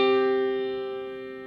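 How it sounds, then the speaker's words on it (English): A sustained musical fifth, two pitches sounding together as one steady tone with rich harmonics, held for about a second and a half and slowly fading, with no voices. "the major fifth, which sounds like this"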